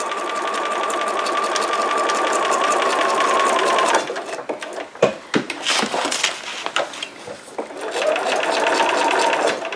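A sewing machine stitching into a handmade book runs steadily and close for about four seconds, then stops and starts in short bursts with rustling handling, before a final steady run.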